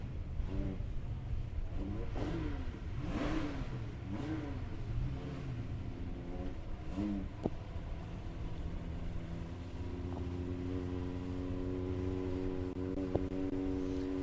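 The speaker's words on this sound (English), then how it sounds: "Tony Anderson in the little Cortina, starting to bring the revs up on the foot brake." A small Ford Cortina drag car at Palmyra Raceway builds revs on the foot brake, its engine note rising and wavering through several climbs before settling into a steady high hold; the sound comes from a distance and no voices are heard.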